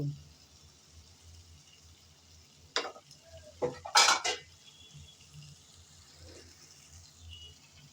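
Small fish tipped into a pan of sautéed potatoes make a couple of short, sharp splashy sizzles and scrapes, close by, separated by quieter frying hiss.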